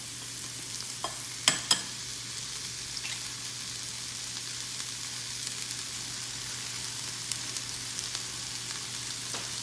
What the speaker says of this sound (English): While these vegetables are sauteing